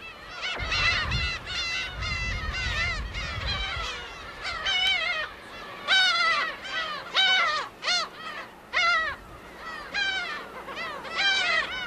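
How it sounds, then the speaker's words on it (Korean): Black-tailed gulls call repeatedly on a Dok-do island in early summer, a near chorus of harsh, mewing caws in overlapping bursts, with a low rumble of wind or surf at the start. "지나면 괭이 갈매기 새끼들은 둥지를 떠난다."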